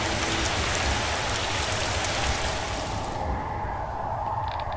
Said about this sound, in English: Yeah, no more acid rain.